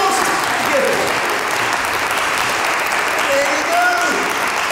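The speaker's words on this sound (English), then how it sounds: "Give her a round of applause!" A theatre audience at a live maths variety show bursts into sustained, loud applause that fills the space evenly from start to finish, with a few voices cheering faintly on top.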